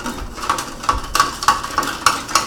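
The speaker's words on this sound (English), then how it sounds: "So you want to vigorously stir the borax solution." A utensil vigorously stirs borax solution in water in a container, making a fast regular series of clinks and scrapes, about two or three per second, close and fairly loud, with no talking.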